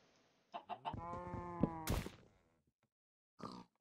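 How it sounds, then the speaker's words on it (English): A Minecraft chicken clucks in a few quick short notes, then a longer harmonic squawk, fairly close, with another brief cluck after a pause. "chicken!"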